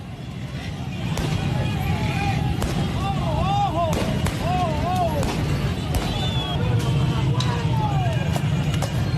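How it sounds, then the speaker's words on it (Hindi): Police fire shots into the air to hold back protesters at a Venezuelan street protest after the presidential election, with sharp cracks repeating through steady crowd noise and wailing siren-like tones. "प्रदर्शनकारियों को रोकने के लिए पुलिस ने हवाई फायरिंग की।"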